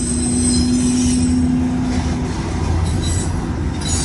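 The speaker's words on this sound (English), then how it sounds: "this eastbound stack train" An eastbound stack freight train rolls past close by at Fremont, Nebraska, a loud steady rumble of wheels on rail with a sustained wheel squeal and some high metallic whines, and no voices.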